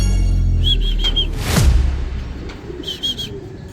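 A racing pigeon arrives at the loft during a race, with a loud close flutter and whoosh of wings landing, amid repeated high bird chirps and calls.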